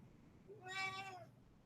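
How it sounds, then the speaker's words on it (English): A house cat gives a single faint meow nearby, a short rising-then-falling cry lasting under a second over quiet room hum. "Shut up, cat."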